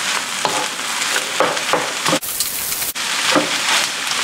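Fried rice is stir-fried and mixed in a hot pan, a loud, rain-like sizzle broken by rhythmic scraping strokes and two brief dips as the spatula tosses the rice.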